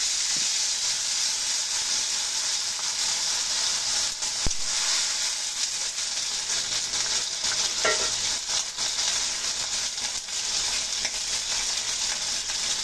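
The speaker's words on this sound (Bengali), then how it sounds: "পেঁয়াজ ভাজি ভাজি হয়ে গেছে, এখন সামান্য পরিমাণ পানি দিয়ে দিচ্ছি।" Water goes into a pan of fried chopped onions and green chillies, bringing a steady soft sizzle and hiss with a few light clinks of a utensil stirring, close and without voices.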